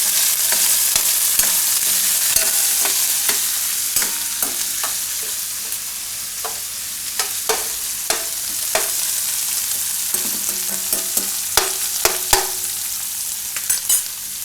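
Capsicum stir-fried in hot oil for a broccoli and cashew curry gives a steady loud sizzle, broken by frequent sharp clicks and scrapes of a spoon against the pan, with no voices.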